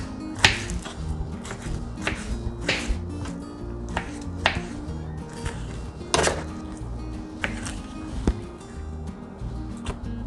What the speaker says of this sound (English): I want to do it faster, so I'm just gonna do it with a knife like this, like that.